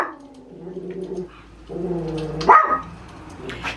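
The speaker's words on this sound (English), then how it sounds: "He never used to bark at anything." A dog barks repeatedly at two people walking past the house, with short sharp yaps and a louder outburst near the middle, close and indoors.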